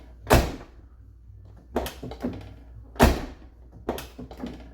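A 1989 Lincoln Town Car Signature Series door is worked open during an interior restoration, with a series of sharp close thunks and clicks spaced out and separated by quiet pauses.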